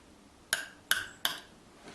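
Three sharp metallic clicks in quick succession as hemostats lock shut on a Poulan weed trimmer's fuel line, close and crisp against near silence.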